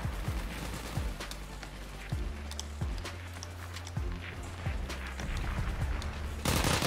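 Gunfire in the WWII shooter game Heroes & Generals comes as repeated sharp shots spaced about a second apart over a dense battle ambience, ending in a louder burst.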